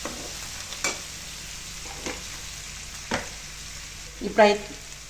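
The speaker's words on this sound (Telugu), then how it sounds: "పచ్చివాసన పోయేంత వరకు వేయించుకోవాలి." Turmeric-laced spice paste fries steadily in a pan for dhaba-style chicken, with a soft continuous sizzle punctuated by a few sharp stirring scrapes and clinks, the last one louder; no talking.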